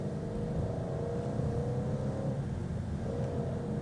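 A 2020 Ford Mustang GT350 engine pulls hard under steady load, a dense continuous roar with a rising harmonic drone, close and loud for the whole stretch with no talking.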